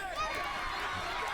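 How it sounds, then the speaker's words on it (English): A wrestling crowd at Rumble at The Red Roof roars in a steady, dense wash of cheering and shouting that holds at an even level throughout, with no breaks. "And listen to that crowd."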